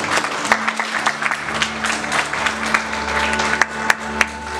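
A church congregation stands and claps for the Lord, a dense, sustained round of applause with a few sharper claps standing out and faint voices mixed in.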